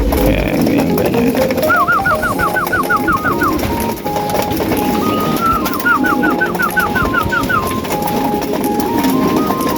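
Racing pigeons gathered before feeding, cooing in repeated rolling calls that rise and fall, close and fairly loud over a steady background hum.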